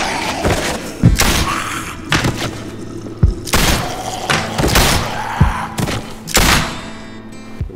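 Gunshots and heavy thuds ring out in The Walking Dead: A New Frontier, with several loud, close shots fired in uneven bursts over a low, rumbling background.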